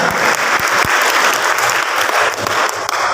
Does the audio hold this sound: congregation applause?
yes